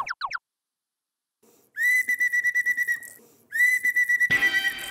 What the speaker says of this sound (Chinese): 吹口哨是集合，不要跑。